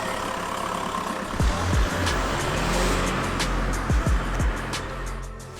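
A VW Polo TDI with newly fitted coilovers pulls away hard and drives around the block, its engine note rising and falling in repeated bursts as it shifts, heard steadily close by with road rumble throughout.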